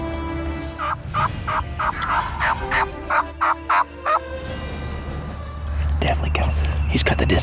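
A wild turkey gobbles repeatedly in a hunting setting, a run of loud, rhythmic bursts in the first half, followed by a louder, closer gobble near the end, with hushed whispering from hunters underneath.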